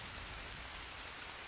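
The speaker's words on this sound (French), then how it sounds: "Oh non, c'est parce qu'il pleut." Steady rain falls in the Green Hell jungle survival game, a soft even hiss of drops on surfaces that fills the whole short stretch without a break.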